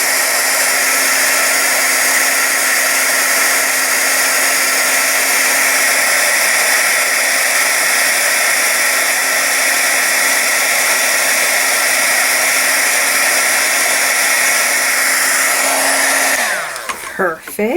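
Heat embossing tool blowing hot air to melt embossing powder on a stamped paper craft, a steady loud whooshing hum for about sixteen seconds that then cuts off abruptly.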